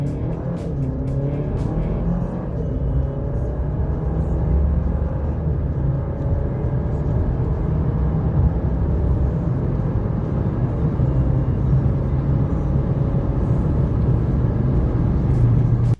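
A Ram Rampage pickup accelerating hard in four-wheel drive low with the rear differential locked, a steady loud engine drone rising slightly in pitch across the run, close and continuous with no talk.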